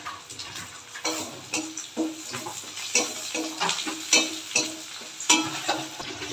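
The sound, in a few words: crushed garlic and onion frying in oil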